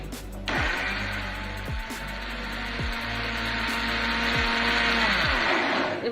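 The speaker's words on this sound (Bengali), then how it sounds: "এবার আমরা ব্লেন্ডারে থেকে 2 থেকে 3 মিনিট এটাকে ব্লেন্ড করে নিব।" A kitchen blender starts abruptly and whirs at a loud, steady pitch for several seconds while blending fresh watermelon with lemon juice and a pinch of salt, then cuts off.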